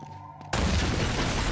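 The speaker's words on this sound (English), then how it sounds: "Big explosions." A sudden, loud blast erupts after a quiet half-second in Uncharted: Drake's Fortune Remastered, and a dense, roaring wash of debris and rumble keeps going to the end.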